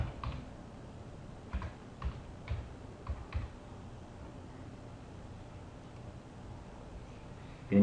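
A handful of faint, sparse keystrokes on a computer keyboard, mostly in a short cluster, over a steady low background hum in a quiet room.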